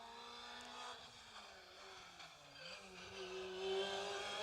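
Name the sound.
Opel Adam Rally 2 rally car passing at speed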